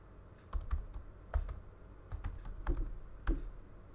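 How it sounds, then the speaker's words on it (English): Typing on a computer keyboard, close and quiet, with irregular bursts of key clicks separated by short pauses, no voices. "I can type"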